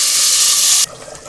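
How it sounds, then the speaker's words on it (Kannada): A small amount of water poured into a hot cooking pan to bring it to a boil, giving a loud, steady hiss that cuts off abruptly partway through and leaves quieter bubbling and clatter. "ಇವಾಗ ನಾನು ಕುದಿಯಾಕ ಒಂದು ಸ್ವಲ್ಪ ನೀರು ಹಾಕೊತಾ ಇದ್ದೀನಿ."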